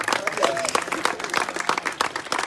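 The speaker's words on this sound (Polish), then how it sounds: "poprosiłby was pewnie o duże brawa dla Maćka Janowskiego" An audience at the Olympic Stadium applauding at an unveiling ceremony, a steady wash of many hands clapping at once, dense and continuous, with crowd voices mixed in.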